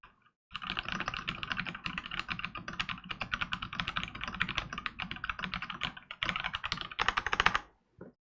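Rapid, clattering keystrokes on a mechanical keyboard fill several seconds, with a brief pause before a final burst of typing.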